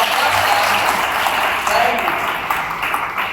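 A class of students claps together in a classroom, a brief burst of dense, fairly loud applause that fades slightly toward the end.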